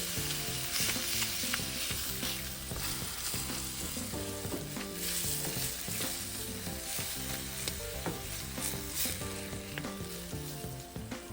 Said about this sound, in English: And as I stir my meat, I break it up into smaller pieces with the wooden spatula.